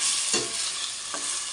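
Chicken being sautéed with chili peppers in a pan for tinola, giving a loud continuous sizzle close by, broken by two brief scraping stirs of a utensil against the pan.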